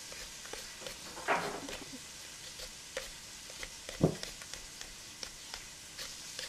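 Pancetta sizzles and crisps in a pan as a steady, quiet frying hiss, broken by a few louder stirring scrapes and clinks, with no voices.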